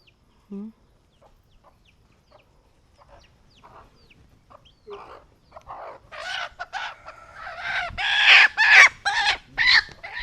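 Domestic chickens around a large house cluck near the start, then a burst of loud, excited squawking and clucking builds over the last few seconds, with brief call-like peaks.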